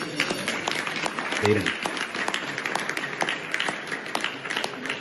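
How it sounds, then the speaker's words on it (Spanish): An audience at an Iran memorandum signing applauds with steady, moderately loud, sustained clapping that carries on throughout, while a voice speaks briefly over it. "Y todos lo aplauden."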